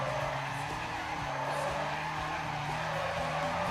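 A car in a racing video game skidding with the handbrake fully on, its tyres giving a continuous squealing slide over a steady engine drone.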